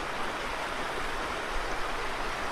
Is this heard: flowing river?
yes